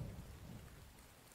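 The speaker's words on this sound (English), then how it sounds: "Oh, it's raining, so of course I can't add." Steady rain with a low rumble of thunder in a survival video game, a dense wash of falling rain continuing without break and no talking.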